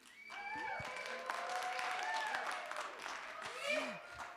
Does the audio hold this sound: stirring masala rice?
no